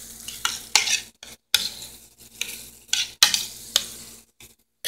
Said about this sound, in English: so I'm going to give it a stir